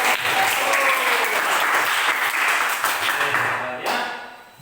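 Classroom students clapping together in a lively, dense burst of hands that holds steady, then thins and fades toward the end, with faint voices underneath.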